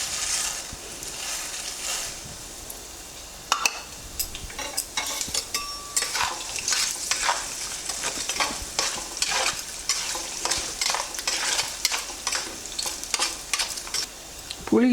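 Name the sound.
black urad dal frying in oil for gongura chutney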